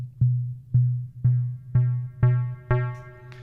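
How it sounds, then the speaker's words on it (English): A custom-built synthesizer engine crossfades from pure sine waves toward filtered square waves: six evenly spaced notes, each a sharp attack with a decaying tail, turning brighter and buzzier with every step, alone and clear. "What you're doing there is crossfading in the engine that I built between sine waves at the bottom"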